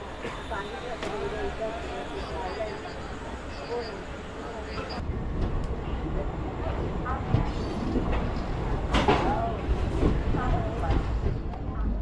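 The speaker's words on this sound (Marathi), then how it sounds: "हे बघा ही पण रवाना झालेली आहे" A passenger train pulls away from a station on the Tutari Express route, a low rumbling roll building after a few seconds with faint clatter, heard from nearby amid background voices.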